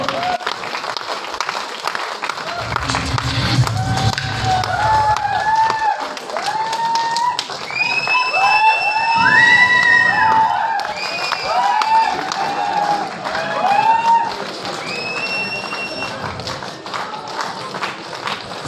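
Audience applause and cheering fill an auditorium at a direct selling recognition meeting in Jaipur. The crowd noise runs continuously, with whoops and shouted voices rising above the clapping.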